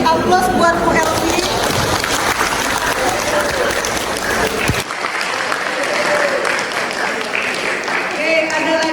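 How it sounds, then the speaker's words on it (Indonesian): A group gives Bu Elvi a round of applause during a school session on spreading a positive culture; steady, dense clapping fills the room throughout, dipping briefly partway before carrying on. "Aplaus buat Bu Elvi."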